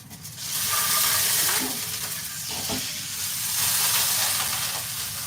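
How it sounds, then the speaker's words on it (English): Potato patties sizzle and fry loudly in a pan, a steady crackling hiss with occasional stirring scrapes, close by and without talk. "Excuse the noise. But I am cooking my dinner for my family."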